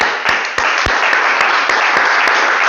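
A church congregation applauds to acclaim the Lord during a Friday teaching service, producing steady, dense, loud clapping that fills the whole moment, with a few sharper individual claps standing out at regular intervals.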